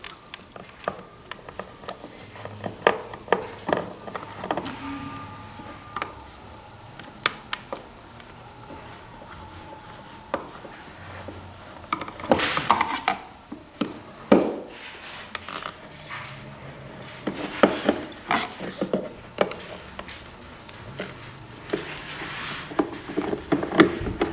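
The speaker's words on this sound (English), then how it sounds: "Next, we'll use a Phillips head screwdriver to remove the 4 screws." Phillips head screwdriver backing out four screws from a cockpit left arm ledge panel, giving scattered faint clicks, scrapes and small handling knocks at close range over a steady background hum, with no speech.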